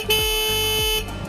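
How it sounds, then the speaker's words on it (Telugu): Horn of a 2024 Bajaj Dominar 250 motorcycle sounding as one loud, steady electric tone held about a second, with a brief stutter at the start and no voices. "హార్న్ యొక్క లౌడ్నెస్ ఎంత ఉందో ఒకసారి అయితే చెక్ చేద్దాం."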